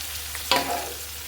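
Whole spices such as cardamom, cinnamon, bay leaf, cloves and peppercorns fry in hot oil in a pan for beef kofta curry, giving a steady close sizzle with one sharp stir-scrape.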